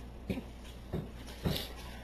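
A dog makes three short whimpering, huffing noises spaced about half a second apart while grabbing a Harry Potter sticker book indoors, close and fairly quiet, with no talking.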